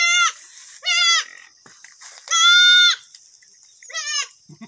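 A goat that has just given birth bleats four times close by, loud drawn-out cries with pauses between them, the third the longest, plus a few faint background rustles.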